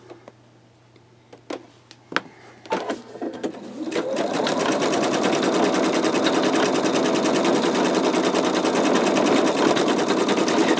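An embroidery machine stitches a skull design, starting after a few scattered clicks and taps, then running loud and close in a fast, steady mechanical rattle to the end.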